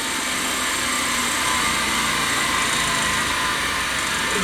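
A grinder smoothing a bevel onto the edge of a metal header panel during repair, a steady loud high whine held without a break for several seconds, close up.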